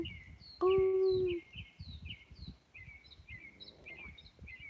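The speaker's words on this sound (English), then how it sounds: "I hear different birds." Several birds chirp and call outdoors in quick repeated phrases, with one loud sustained whistle near the start and soft low background noise.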